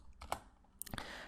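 A few quiet keystrokes on a computer keyboard, soft isolated clicks scattered over about a second at close range, with no talking.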